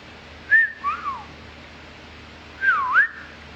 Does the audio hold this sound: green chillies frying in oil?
no